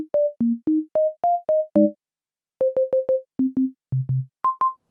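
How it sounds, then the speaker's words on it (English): Clean, pure sine-wave tones from a Korg opsix FM synthesizer play as a quick run of short, evenly spaced notes at shifting pitches, with a brief pause midway. "we get this very basic sine wave."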